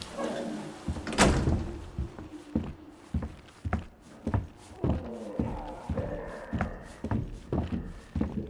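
Mr. X kicking open a door in Resident Evil 2, heard as a sharp thud followed by a string of heavy, spaced footfalls and impacts at moderate distance.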